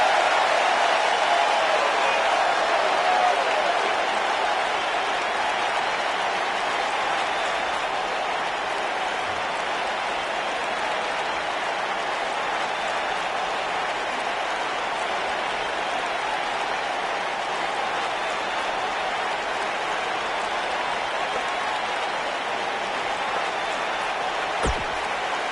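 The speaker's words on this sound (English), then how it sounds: "The crowd here tonight certainly seemed to appreciate the efforts." Steady crowd applause and cheering from a wrestling arena in the WWE 2K19 video game, a dense continuous wash of clapping that holds evenly throughout at a fairly loud level with no clear voices.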